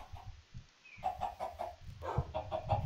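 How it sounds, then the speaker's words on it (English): A chicken in a Minecraft-style realm game clucks in a series of short, close, fairly soft calls, the sound of a hen laying an egg, with no talking. "a chicken just laid an egg"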